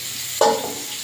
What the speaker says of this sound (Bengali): এবারে কেটে রাখা ওলকপিগুলো দিয়ে দেবো।